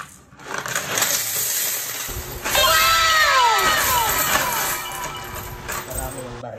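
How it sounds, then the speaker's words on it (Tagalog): A pile of saved coins poured out onto a surface, a loud rush of metallic clinks and jingling rings that builds and trails off, with some background voices. "Marami yung barya."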